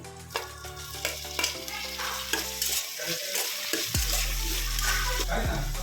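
Tomatoes with onions and green chillies frying in a pan, a steady sizzle with the scrape and clatter of stirring, a low background hum running underneath, close by and with no speech.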